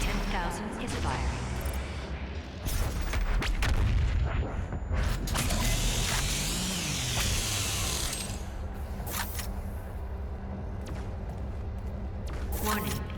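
BFG 10,000 firing in DOOM Eternal on Mars Core: a massive booming blast with grinding mechanical clanks and ratcheting, a rising whine mid-way and sharp metallic hits after, with speech and game sounds mixed throughout.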